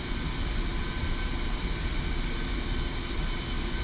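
Su-25T Frogfoot jet taxiing toward the runway in the DCS flight simulator, a steady, unbroken engine roar and whine holding at an even level throughout, with no talk over it.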